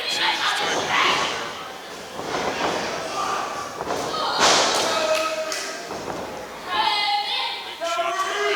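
During a televised NWA pro wrestling match, several dull thuds from strikes to an opponent's back land over a lively commentary and crowd noise, with one heavier slap standing out near the middle.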